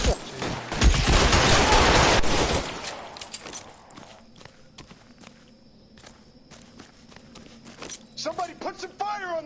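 Gunfire in L.A. Noire: a dense, loud burst of shots in the opening seconds, then scattered sharper cracks and clatter, with voices talking over the later part.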